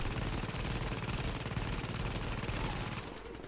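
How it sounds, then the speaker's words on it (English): Sustained automatic gunfire from a turret in Tom Clancy's The Division on PS4, a dense continuous rattle of rapid shots that stays steady and loud before easing off near the end, with no talking. "The turret is kicking ass now."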